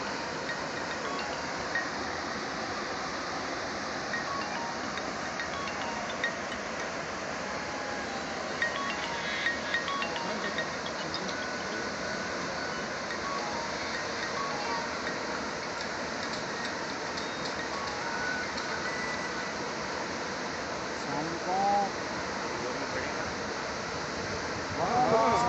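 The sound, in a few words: water rushing through opened Khanpur dam spillway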